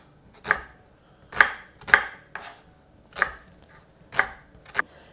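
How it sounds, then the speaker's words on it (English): Half a chili being cut into chunks with a knife on a board: about eight sharp, separate chops in an uneven rhythm, close and crisp against near silence, with no talking. "I'm going to use half a chili. So just chop it in chunks."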